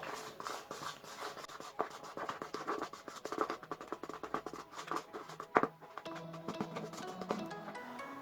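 A spoon scrapes and stirs a salted slime mixture in a bowl, producing quiet, close, irregular scratching and tapping strokes.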